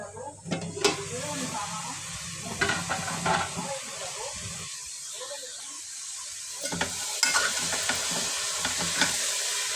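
A potato and cabbage curry is stirred in a pan, with a continuous hiss of frying under scraping spoon strokes and a voice talking intermittently.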